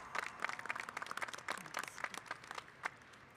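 An audience applauds at the UHD 78th commencement ceremony, with fairly faint, continuous clapping from many hands that stays dense and even throughout and fades slightly toward the end.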